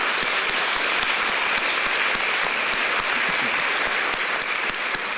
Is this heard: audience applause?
yes